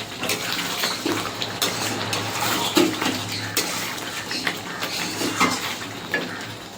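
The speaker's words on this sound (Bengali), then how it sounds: "আবারও নেড়ে দেবো। ভালো করে মশলাটা কষিয়ে নেব।" Spiced chicken chaap masala is stirred and fried in a pan, with a continuous sizzle and scattered metallic scrapes and clinks of a utensil against the pan, close up and without speech.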